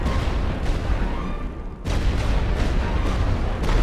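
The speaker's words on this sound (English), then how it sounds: "We'll have one more barrage." A World War I artillery barrage in a Great War Western Front strategy game rumbles as a dense, continuous wash of distant booms and blasts, briefly dipping before resuming.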